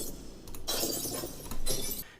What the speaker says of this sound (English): And last but not least, glass being broken.